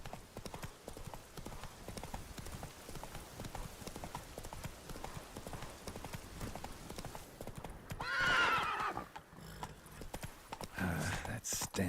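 Roach the horse galloping in The Witcher 3, rapid clip-clop hoofbeats running throughout, with a neigh and louder hoof bursts near the end, under game ambience.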